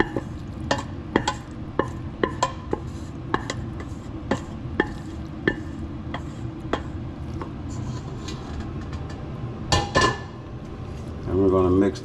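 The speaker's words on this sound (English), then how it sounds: "And we're gonna mix that up." Macaroni noodles being stirred into a cheese sauce for a hamburger macaroni casserole, with a spoon scraping and knocking against the pot in a steady rhythm and a wet, sticky churn beneath, close and fairly loud.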